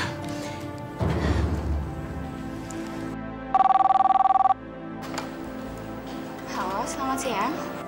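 A telephone rings in a short burst while placing a call to a taxi company, a clear electronic ring-tone lasting about a second, with people talking before and after it.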